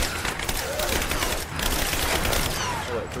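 Rapid gunfire from a firefight in Rise of the Tomb Raider, dense overlapping shots and crackle filling the clip at close range, with brief bits of voice mixed in.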